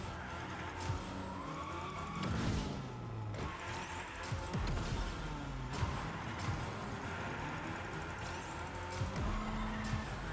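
In the Rocket Racing video game, a car drifts with sustained tire squeal and skidding over a constant engine drone, with occasional thuds and impacts along the way.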